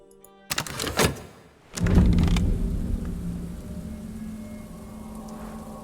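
Rain ambience in the game Book of Hours, a steady soft patter and hiss settling in after a couple of sharp thumps and a rumbling surge near the start.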